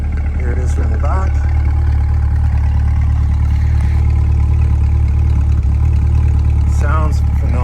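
A 2020 Chevrolet Corvette C8 Convertible Z51 3LT idles with a deep, steady engine rumble and light clatter close by, while brief voices come through over it.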